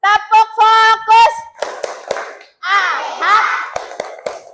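Schoolchildren in a classroom do a rhythmic focus clap, a teacher's voice leading and the group chanting in unison, punctuated by crisp claps, close and loud.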